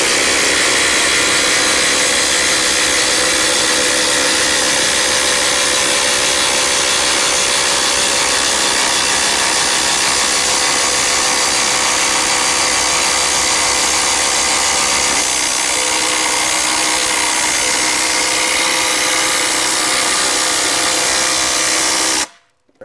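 A Hercules cordless impact driver with a fully charged 5 amp-hour battery runs continuously on speed 3, driving into wood with a loud, steady grinding whir that holds for over twenty seconds before stopping abruptly.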